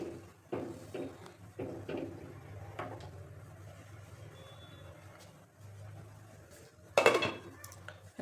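A metal lid clanks onto a cooking pot on a gas stove in a home kitchen, one sharp metallic clatter after several seconds of soft kitchen shuffling and low hum.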